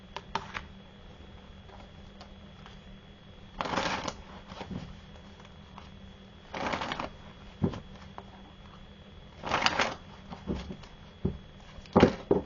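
Tarot cards are shuffled in a series of short riffling bursts separated by quiet gaps, with light taps and card handling in between, close and fairly soft.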